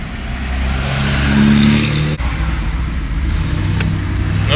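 A Chevrolet K1500 pickup truck drives and accelerates, its engine rumble building and then settling into a steady cruising drone, heard close from inside the cab with no talk.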